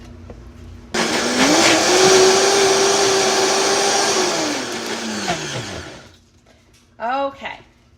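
A blender whirs up pesto with garlic cloves: the motor roars to full speed at once, holds a loud steady whine for about four seconds, winds down, then gives one short extra pulse. Nobody speaks.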